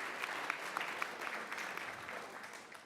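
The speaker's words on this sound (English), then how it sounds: "yes, please, a warm clapping." Warm audience applause for a performer at a world music artist talk in a concert hall, fairly faint but steady clapping with a few sharper individual claps, tapering slightly toward the end.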